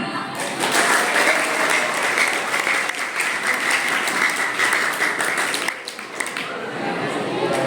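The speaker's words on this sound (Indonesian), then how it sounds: "Tepuk tangan." A crowd applauds during a Ramadan gathering, a thick, sustained roar of many hands clapping at an even level that thins slightly toward the end.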